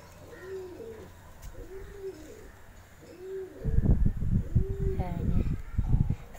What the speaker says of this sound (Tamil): ஃபீமேல் புறா